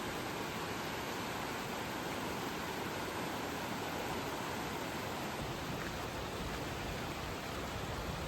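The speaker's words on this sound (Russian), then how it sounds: "А вот и это и есть та самая горная река Касарати." Cassarate mountain river in Lugano flowing steadily, a dense, even rush of water heard close and alone throughout with no talk.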